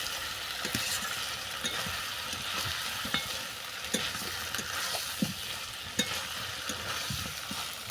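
Chicken curry being stirred in a pan after garam masala goes in, a steady sizzle of frying with soft scraping strokes of a spoon through the thick mix, close and continuous with no voices.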